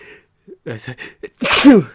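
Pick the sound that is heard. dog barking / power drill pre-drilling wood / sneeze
sneeze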